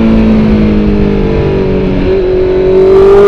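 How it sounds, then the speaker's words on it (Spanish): A 2019 Honda CB650R motorcycle engine revving on a mountain road, a loud close steady drone with a rising pitch toward the end and no talking. "¿Cómo suena la bestia torda, la Honda CB650R 2019?"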